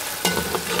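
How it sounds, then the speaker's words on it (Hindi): Four chopped onions frying in a pan for chicken biryani, a short, soft sizzle with a brief stirring clatter near the start, heard up close for under a second. "मैं सिर्फ ना 4 प्याज जो है ना कटे हुए, वो इधर फ्राई हो रहे"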